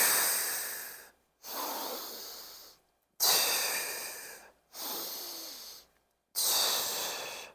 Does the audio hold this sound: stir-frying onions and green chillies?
no